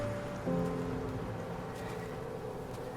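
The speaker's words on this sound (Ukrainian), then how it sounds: "на вулиці дощ" Steady rain falling in a video game world, a soft continuous hiss with faint patter, accompanied briefly by a low tonal hum at the start.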